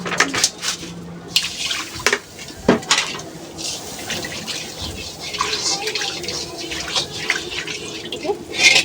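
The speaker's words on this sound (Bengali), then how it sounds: "কড়াইটা ধুয়ে নেব।" A kadai is rinsed with water, with splashing, running water and intermittent clanks of metal cookware close by, and no talking.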